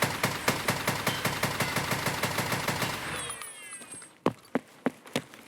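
RSASS rifle fired in the video game Escape From Tarkov: a fast, evenly spaced string of sharp shots for about three seconds, then a quiet gap with a faint whine, followed by four louder separate shots.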